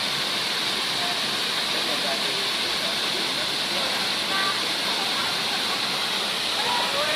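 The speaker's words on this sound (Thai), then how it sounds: "ชมวิวบรรยากาศน้ำตกตาดยอง สวยงามหลาย" Tat Yong waterfall roars as a loud, steady, unbroken rush of falling water heard up close, with no pauses.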